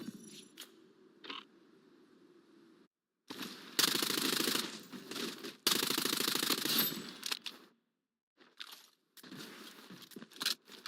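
Heavy automatic gunfire from a video game battle, rattling out in loud, dense bursts separated by brief gaps, with sharper single cracks and quieter stretches at the start and end.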